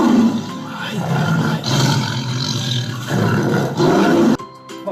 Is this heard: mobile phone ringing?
no